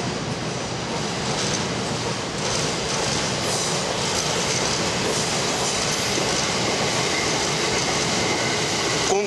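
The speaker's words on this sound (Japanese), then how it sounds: "環状線をちょうど今内回り電車が通ってきているところですが" An Osaka Loop Line inner-loop train passes close by on a weekend morning, a continuous loud rumble of wheels and carriages with rhythmic clacking and faint squeals.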